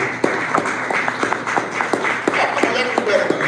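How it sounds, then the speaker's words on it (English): An audience at a 1 Million Cups Detroit Metro startup event gives the organizers a warm round of applause, a dense patter of many hands clapping steadily nearby. "please raise your hand and give them a round of applause for the work that they do"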